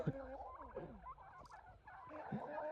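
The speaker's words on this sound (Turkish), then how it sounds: "bizim kuşlarımız da var, burada hinduşkalarımız" Several turkeys gobble in bursts nearby, their warbling calls overlapping with occasional softer clucks.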